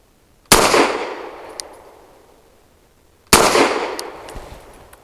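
Two loud, sharp gunshots from a Fusion Firearms Ermox XP Pro pistol firing SIG Elite Defense 147 grain rounds from a Bull Armory magazine, spaced about three seconds apart, each trailing off in a long ringing echo.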